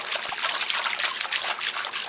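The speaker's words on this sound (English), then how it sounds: "So if I agitate the water a little bit," Bath water containing cocoa butter sloshes and splashes close by in quick, continuous swishes, like a hand stirring a filled tub.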